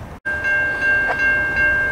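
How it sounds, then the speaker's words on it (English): A southbound Amtrak passenger train passes a station in Cary, sounding a loud, sustained horn blast over the rumbling roll of its cars. "Here comes another train. Amtrak train 75, southbound by the Cary Amtrak station, running on time."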